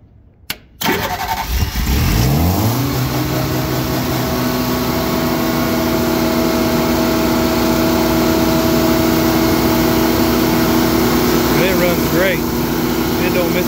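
A Winco 20kw generator engine cranks and catches after a couple of sharp clicks, then revs up into a loud, steady running drone that holds evenly, with a voice briefly audible near the end.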